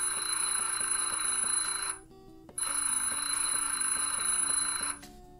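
An alarm clock sound effect rings loud and close in two long metallic bursts separated by a brief silence, with no talk over it.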